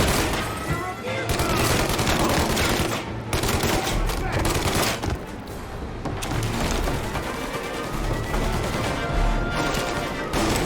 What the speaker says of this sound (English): He's just shooting at him.